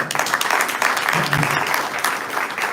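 Applause from a conference audience at a labour law congress in Argentina, greeting a newly elected first vice president; steady, dense clapping from a crowd indoors, lasting throughout.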